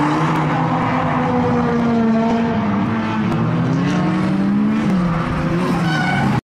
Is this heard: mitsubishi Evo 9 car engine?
yes